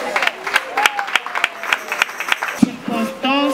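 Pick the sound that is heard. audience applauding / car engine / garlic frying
audience applauding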